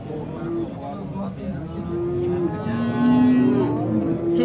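Cattle, large dairy cows and heifers at a livestock market in Buvayda, Yangiqo'rg'on, Uzbekistan, give long drawn-out moos. Several calls overlap and rise and fall in pitch, with background voices underneath.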